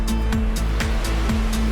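Ocean surf washes in around the ankles at a beach, a loud, continuous rush of water close by with no talking.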